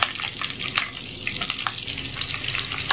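Onion and chilli hit a pan for a potato katli curry, a loud busy frying crackle with sharp pops and spattering bursts from start to finish.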